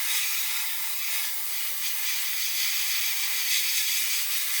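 Airbrush blows a steady, close hiss of air over matte varnish on a 1/24 scale Airfix Bf109 model kit, continuous and fairly loud, with slight pulses in the airflow and no talking.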